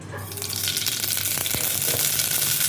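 Mustard seeds frying in groundnut oil for a village-style tomato rice, giving a steady, close hiss and crackle of sizzling oil that holds throughout with scattered small pops.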